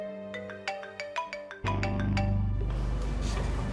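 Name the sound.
mobile phone ringing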